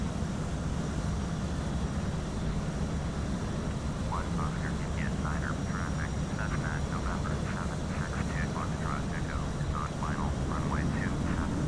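Steady aircraft engine drone from a light plane in Flight Simulator X, a continuous loud hum throughout with faint scattered chirpy sounds layered over it.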